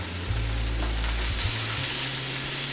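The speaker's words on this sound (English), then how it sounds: "That's a good sizzle. You want to hear that loud sizzle." A loud, steady sizzle of chicken breast frying in a hot pan, a dense hiss with a low hum beneath.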